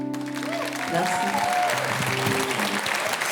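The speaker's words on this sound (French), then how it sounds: "Rejoignez-nous sous les applaudissements du public." A live-show audience breaks into loud, steady applause as a sung note fades out, and voices talk over the clapping.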